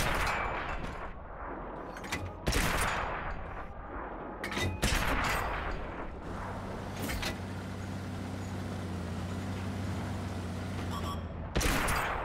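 Tank cannons fire in the World of Tanks console game, several loud booming shots breaking over a constant low engine rumble and tread noise, the shots spaced a few seconds apart.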